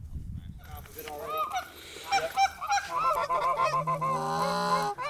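Big honker geese flying in over a Nebraska slough give a rush of loud, overlapping honks that build and crowd together, with faint low sounds near the start.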